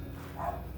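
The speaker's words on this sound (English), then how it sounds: "The dogs are barking a lot." Dogs bark in the background, a short muffled bark or two rising over a low steady room hum.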